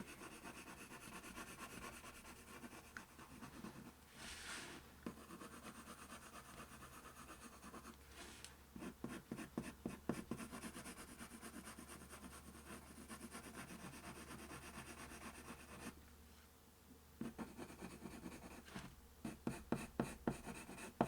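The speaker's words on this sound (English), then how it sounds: "So you just want to shade back and forth really, really lightly." A pencil lightly shades back and forth on paper, a soft, quiet scratching with long steady stretches and bursts of quick rhythmic strokes, heard alone without talk.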